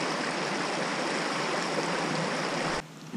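A steady, broad rush of falling water from a creek waterfall at Window Cliffs State Natural Area, close and constant, cutting off abruptly near the end.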